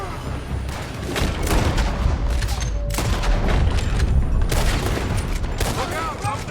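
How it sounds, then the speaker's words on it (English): Heavy gunfire pours from a building in Red Dead Redemption 2, a dense continuous fusillade of rifle and pistol shots with booming reports, loud and sustained throughout amid chaotic battle noise. "They're shooting from that building."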